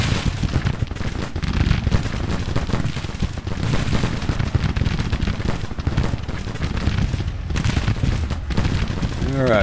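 Artillery in the Civil War strategy game Grand Tactician: The Civil War fires in a dense, continuous barrage of booms and crackling volleys, loud and unbroken throughout.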